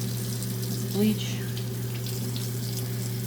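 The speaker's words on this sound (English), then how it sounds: "So when I want to do a rinsing, I use the cold water and bleach" Cold water runs steadily from a kitchen tap to rinse a dish sponge with bleach. The flow is a constant, even rush with a low hum underneath.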